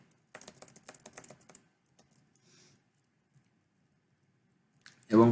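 Quick bursts of typing on a computer keyboard while writing HTML heading tags, a rapid cluster of key clicks early on, then scattered isolated taps, close and fairly quiet, ending in a louder thump.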